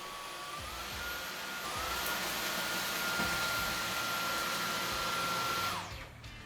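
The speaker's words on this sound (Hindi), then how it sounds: "laser vacuum on" A Dyson V15 Detect laser vacuum cleaner runs with a steady, loud high-pitched whine and airy rush, rising slightly, then cuts off near the end.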